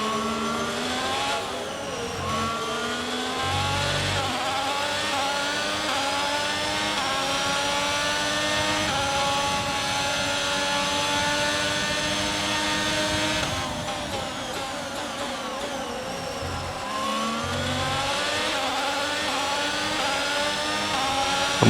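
A high-pitched Formula 1 engine screams in the F1 22 racing game, rising and falling through repeated upshifts and downshifts for a long continuous stretch, loud and close.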